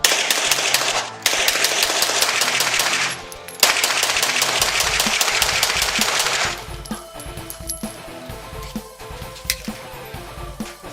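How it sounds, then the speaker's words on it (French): A KRISS Vector submachine gun fires loud, rapid automatic bursts up close, with a short pause between long strings of shots, then tapers into scattered single shots and metallic clatter. "It's a machine gun!"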